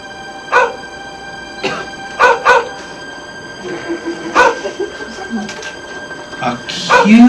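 A small puppy gives several short, high yips and barks spaced irregularly, with a whimpering squeal at the end, over a faint steady background hum.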